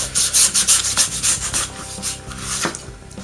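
A knife saws through rough dogfish skin with a rasping, sandpaper-like scrape, repeated in quick close strokes that pulse loudly and evenly, with no talk over it.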